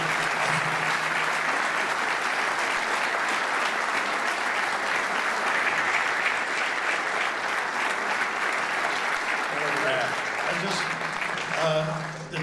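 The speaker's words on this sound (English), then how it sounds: "Let's hear a nice round of" Sustained audience applause at the 2024 Joe Lapchick Character Awards ceremony, dense and steady for about ten seconds before a voice starts speaking over its fading tail.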